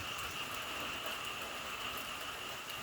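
Steady, even hiss of rain falling, continuous and fairly faint, with no voices or other distinct sounds.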